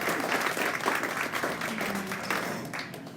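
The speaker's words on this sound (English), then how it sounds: "Please give a warm round of applause for Dr." Warm audience applause in a pizza restaurant at a science café talk, a short burst of moderate clapping from a small crowd that tapers off gradually.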